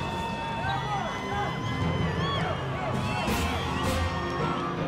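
Crowd cheering and whooping at a saddlebred horse championship in South Africa, a steady roar of voices with whistles and shouts rising over continuous babble throughout.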